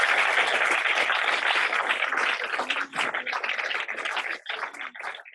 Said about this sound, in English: Let's give Tom another round of applause.